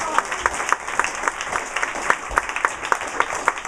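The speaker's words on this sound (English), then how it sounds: "Give them a round of applause." A comedy club audience applauds steadily, a dense patter of many hands at moderate loudness, continuous for several seconds with sharper individual claps standing out.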